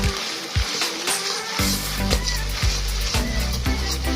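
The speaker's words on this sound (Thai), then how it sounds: "ผัดให้เข้ากันนะคะ คนไปเรื่อยๆเลย" Shrimp sauce with fish sauce and sugar is stir-fried in a hot pan, giving a loud, close sizzle broken by repeated scraping stirs, and no voice is heard.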